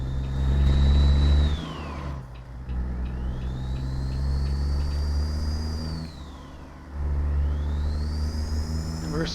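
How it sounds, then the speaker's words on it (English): A heavy Peterbilt 379/389-style truck engine pulling a 202,000 lb heavy-haul load in American Truck Simulator, droning loud and low, with pitch rising and falling as gears are split in low range, and a whining tone sweeping with each shift. "We're splitting the gears in the low range right now"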